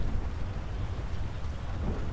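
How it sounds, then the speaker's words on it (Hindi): Steady heavy rain with a low, continuous thunder rumble during a storm in the video game GTA V, close and even throughout with no voices. "खतरनाक स्ट्रॉम आ रहा है।"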